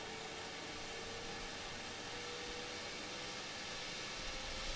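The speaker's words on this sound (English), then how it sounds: "So you can hear the engine winding up now." A jet engine and APU spooling up in the PMDG NGX 737 flight simulator, heard as a steady, fairly quiet whirring drone with a faint rising tone and a broad hiss beneath, no voices.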